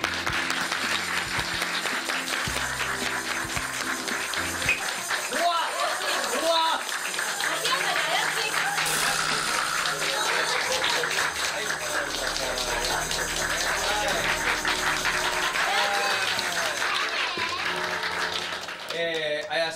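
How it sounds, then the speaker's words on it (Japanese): A studio audience claps and applauds to welcome a special guest onto a Japanese game quiz show, sustained clapping throughout with cheers and laughter mixed in. "拍手でお迎えください。"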